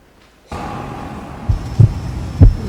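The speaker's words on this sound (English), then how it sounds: "Heartbeat." A thumping heartbeat-like sound plays during a Republic Day celebration at a health campus, with steady throbbing low beats that grow stronger and more distinct toward the end over a continuous hum.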